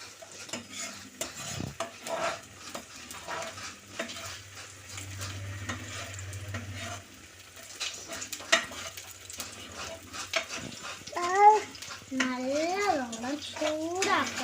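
Ginger frying in a pan while being stirred, with scraping and sizzling textures running throughout, a voice and other talking audible in the background.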